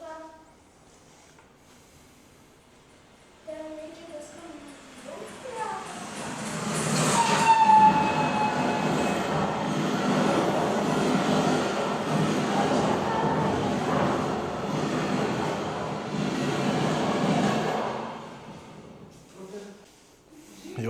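A train pulling into a station in Lithuania, a low rumble swelling from near silence into a loud rolling roar with a brief horn-like tone, then fading away, with faint voices nearby.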